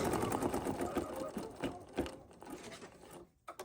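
Sewing machine doing an outline stitch on a fabric collage, a close, rapid rattling stitch that runs steadily for about three seconds before stopping.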